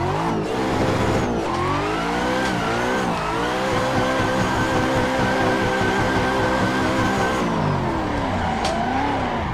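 A Mazda Miata engine revs hard and continuously while drifting in the Assetto Corsa racing game, the pitch rising and falling with repeated throttle blips and occasional tire squeal, loud and steady throughout.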